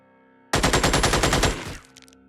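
A rapid burst of gunfire from a crouching soldier in the turn-based strategy game Xenonauts, about a dozen evenly spaced loud shots packed into roughly a second, then a short decaying tail.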